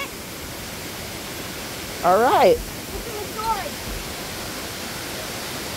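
A waterfall near Ellijay, Georgia roars in a constant broadband rush that fills the scene, while someone briefly speaks over it partway through.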